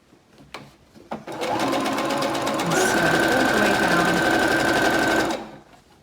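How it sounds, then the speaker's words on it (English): A sewing machine stitches a quarter-inch seam with reverse stitching to secure it, starting after a few clicks and then running loud, steady and close for about four seconds before stopping. "sew our 1/4 inch seam. To reverse stitch to secure the stitches."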